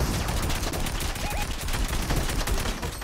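Rapid video game gunfire in a battle royale shooter, a dense continuous crackle of overlapping shots filling the scene at steady loudness with no clear gaps.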